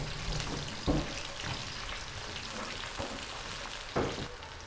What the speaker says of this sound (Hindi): प्याज को हम गोल्डन ब्राउन कर लेंगे।